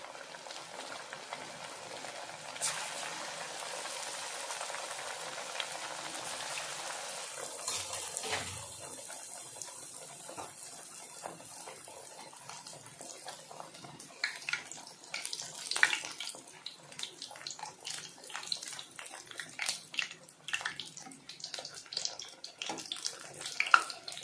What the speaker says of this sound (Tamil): பாருங்க பாருங்க எண்ணெய் காஞ்சிருச்சு. இந்த பூரி போடலாம்.